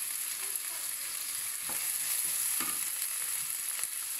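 Crushed garlic and ginger sautéing in hot oil for a chicken curry, giving a steady close sizzle with a few brief stirring scrapes, no voices.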